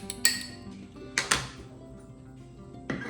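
A spoon stirring a basil mixture for sponge cake in a bowl, giving a few sharp clinks and scrapes against the dish at separate moments over a quiet background.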